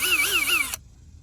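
A cordless drill whines as its bit starts a hole in a car bumper, the motor pitch wavering up and down as the trigger is feathered for about three-quarters of a second before cutting off abruptly into near silence.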